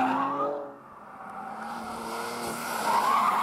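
A Porsche Panamera Sport Turismo 4 E-Hybrid takes a bend: the engine drones loud and close, dips briefly as the car slows into the turn, then climbs again under heavy throttle, with faint tire noise throughout.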